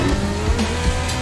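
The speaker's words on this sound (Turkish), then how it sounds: "Bu adam arkadan çarpa çarpa" A car takes repeated hits from behind in a racing or crash setting, with a loud continuous engine roar, tyre squeal and several dull thumping impacts spread through the moment, close and busy with no voices.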